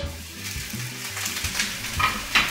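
A pound of lean ground beef fries in a little oil in a frying pan, giving a steady close sizzle with some stirring and scraping throughout.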